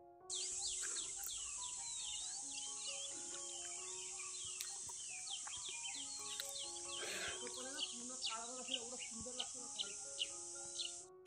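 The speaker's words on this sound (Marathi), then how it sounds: "पक्ष्यांचा आवाज येतोय." Birds call and chirp in a village forest, with many overlapping tweets and trills and insect or cricket buzzing beneath; a bright, continuous high chorus with occasional louder close chirps.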